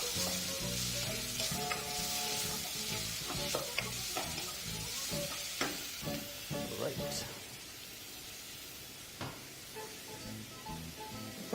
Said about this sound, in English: spring onions in, continue to mix through thoroughly